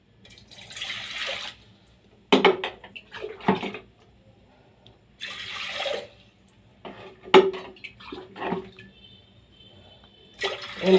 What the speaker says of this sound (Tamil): நீங்கள் எவ்வளோ இது பண்ணுறீங்களோ அதுக்கேற்ற தண்ணி ஊற்றிக்கோங்க.